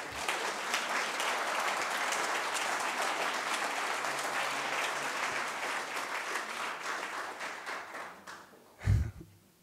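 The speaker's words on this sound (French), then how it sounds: "que vous saluez avec moi par une salve d'applaudissements" A conference audience at a talk on regenerative business gives a long, dense round of applause that holds steady for about nine seconds, thinning near the end with a single low thump before it fades.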